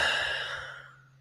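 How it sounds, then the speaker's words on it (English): One soft, airy exhalation from a person in a breathwork session, close to the ear, starting strongest and tapering away over about a second. "and breathing out."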